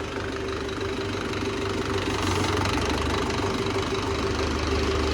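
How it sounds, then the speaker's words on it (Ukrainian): A tractor engine on its first start runs steadily with a rough knocking beat, loud and close, a dense mechanical rumble with no talk over it. "заглушіть і заведіть"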